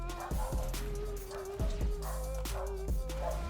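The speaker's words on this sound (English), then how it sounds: "Sorry if you hear the dog barking" A dog barks indoors in a string of sharp, irregular barks, about half a dozen, at moderate distance with some whining in between.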